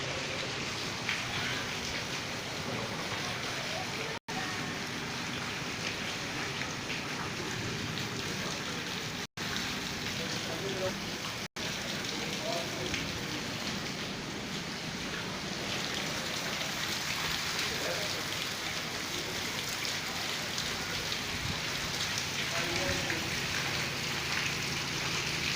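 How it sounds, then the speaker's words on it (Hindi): Steady rain falls in Dipalpur, a continuous dense hiss of drops on surfaces that holds at an even level throughout with no voices. "बारिश हो रही है यहाँ दीपालपुर में"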